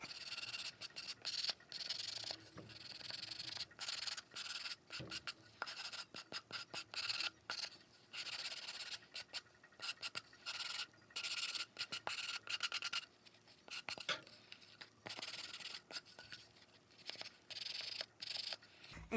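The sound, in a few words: sanding painted wood with a sanding block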